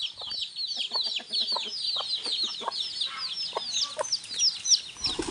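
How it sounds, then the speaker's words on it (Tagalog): A hen guarding her chicks clucks agitatedly in rapid, scolding bursts, mixed with high chirping from chicks nearby. "Galit na galit yung manok, eh."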